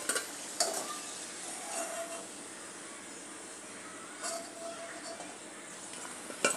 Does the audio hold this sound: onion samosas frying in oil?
yes